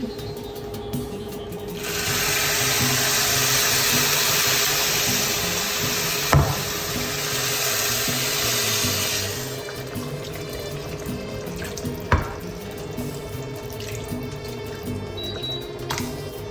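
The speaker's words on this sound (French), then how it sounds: "j'ai pesé la sauce qui va me servir à arroser les graines de couscous" Sauce is poured over couscous grains for a Tunisian couscous with kedid (dried meat), as a steady broadband splashing pour running for several seconds, then stopping, with a sharp clink or two afterwards and no talk.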